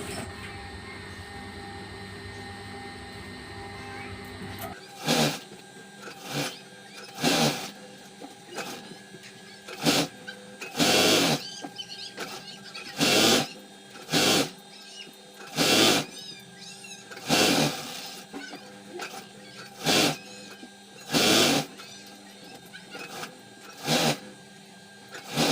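Sewing machine stitching along the lining edge of an embroidered blouse, a low steady mechanical hum broken by about a dozen loud whirring bursts of stitching, each a second or so long, close by with no talking.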